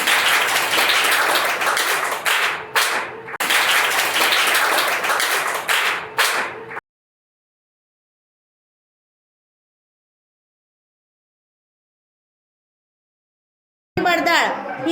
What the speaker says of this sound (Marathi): टाळ्या सगळ्यांनी वाजवा.